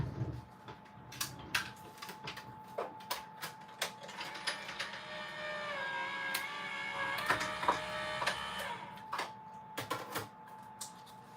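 A die-cutting machine cuts a stamped card, giving a steady mechanical whir and hum with sharp clicks and clacks scattered throughout, close and fairly quiet.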